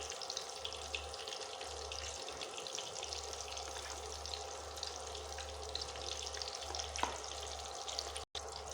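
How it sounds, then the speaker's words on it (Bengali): Egg-stuffed eggplant frying gently in a pan, a faint, steady sizzle with a low hum beneath and a single soft clink, no talking. "এখন আমি আস্তে আস্তে ভেজে নেব।"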